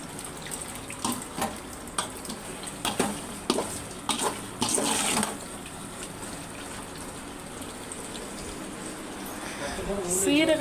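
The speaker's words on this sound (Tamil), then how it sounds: "அதுக்கப்புறம் வந்து அளவு தண்ணி சேர்த்துக்கலாம்." Water pours and splashes into a pot of mutton biryani close by, with scattered clinks and stirring sounds before a steady flow.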